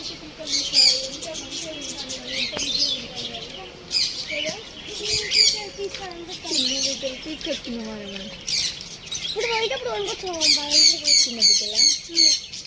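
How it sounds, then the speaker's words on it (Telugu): Cockatiels squabbling at Kakatiya Zoo Park in Warangal, a dense run of harsh squawks and shrill chirps that rise and fall, loudest near the end, with people talking nearby. "అవి చిలకమ్మలు, వీళ్ళు కాక్టైల్. కొట్లాడుకుంటున్నాయి చూడు."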